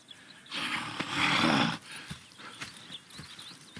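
In the video game Red Dead Redemption 2, a horse snorts and blows loudly for about a second, followed by scattered hoof thuds and shuffling movement nearby.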